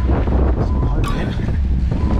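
Strong wind buffeting the microphone on a mountain bike trail in Laggan, Scotland, a loud continuous rumbling roar throughout.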